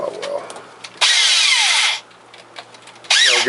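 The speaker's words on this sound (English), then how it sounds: "I just pulled my drill bit" A power drill whirs in two loud bursts, about a second each, with a quieter gap of faint handling noise between them.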